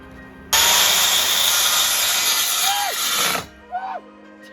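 A power tool cuts with a loud, harsh continuous whine for about three seconds while fitting AC to a skoolie bus, then stops abruptly, followed by a couple of short bursts.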